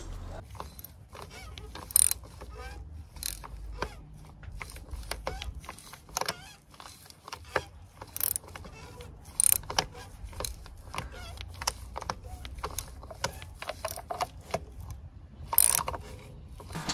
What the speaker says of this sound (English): undo the oil filter